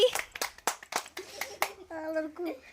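A child claps hands in a string of sharp, close slaps with an irregular beat, while a young voice speaks and hums over the latter part.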